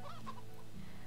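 A chicken clucks in Divinity 2: Ego Draconis, a few short, fairly quiet clucks over a steady ambient game background.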